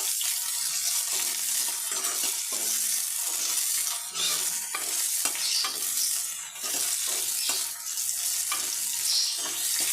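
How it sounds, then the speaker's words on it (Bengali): Cumin, onion, chilli and garlic fry in a pan for a gime shaak dish, giving a steady, dense sizzle throughout with repeated spoon scrapes and taps breaking through. "প্রথমে জিরেটা দিলাম পেঁয়াজ লঙ্কা রসুনটা দিয়ে দিলাম একটু লাল করে নেবো"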